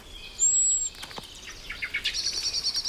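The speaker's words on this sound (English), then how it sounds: "This blackbird has spotted our Genet and sounds the alarm." A blackbird's sharp, high alarm calls ring out in a rapid series of chips and whistles at a genet, growing busier toward the end, with no voices.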